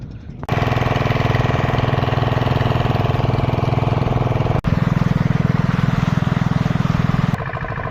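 A boat's motor runs loud and close near the India–Bangladesh border, a steady droning, rattling hum that starts abruptly, dips for a moment partway through and then carries on evenly.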